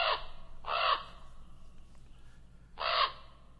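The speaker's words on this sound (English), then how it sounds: "Common ravens, nesting again this year among the antennas high up on the broadcast relay tower back there." Common ravens nesting among antennas on a high broadcast relay tower give three harsh, croaking calls at moderate distance, two close together and a third after a pause, over a low steady hum.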